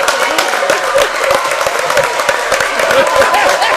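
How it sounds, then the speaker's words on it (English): Gym crowd at a girls' CYO varsity basketball game applauding a player introduction, with dense, continuous clapping and scattered cheers, and a voice talking over it. "A cheer for Mike Murphy."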